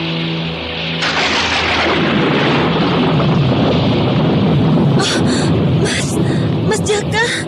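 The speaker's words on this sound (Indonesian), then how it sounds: "Suara geledek keras sekali." A loud, rolling thunder rumble builds over heavy pouring rain on a dark night in a forest, sustained and near, with sharp crackling bursts toward the end.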